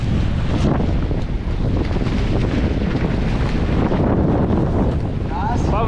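Strong wind on the Daugava river buffets the microphone in a constant loud roar, with water splashing faintly beneath it.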